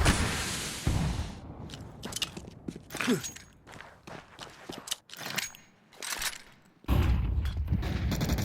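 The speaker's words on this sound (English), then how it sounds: "those bullets will start to barrage through the smokes" Gunfire cracks through smoke in a Counter-Strike pro match, irregular bursts and single shots mixed with footsteps and mechanical clicks, loud sprays at the start and end.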